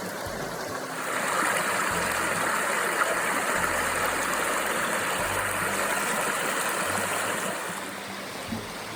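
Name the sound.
creek flowing beside a hiking trail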